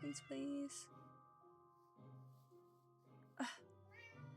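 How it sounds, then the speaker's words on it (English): A Minecraft cat meows several times, short and clear meows with quiet gaps between them and no talking over them. "I want this cat."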